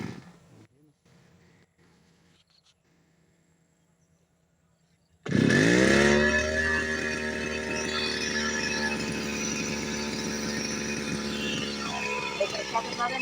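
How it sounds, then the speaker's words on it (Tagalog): A grass cutter's small engine starts abruptly after near-silence and keeps running loud and steady, with a harsh buzzing drone that stays close until the end. "Grass cutter natin mga kapatid."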